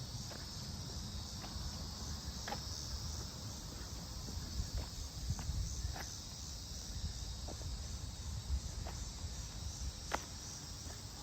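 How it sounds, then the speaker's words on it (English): Steady nighttime chorus of insects and tree frogs in a park, a continuous high chirring drone with scattered soft clicks and a few faint steps, moderately distant and quiet. "we got tree frogs too"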